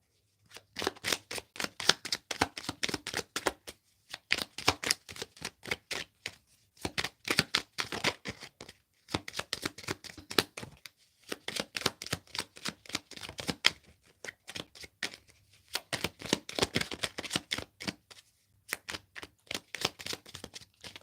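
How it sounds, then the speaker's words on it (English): Cards are shuffled repeatedly in quick riffling bursts, each a rapid flutter of snaps separated by short pauses, close and crisp. "I'm going to shuffle from this last deck"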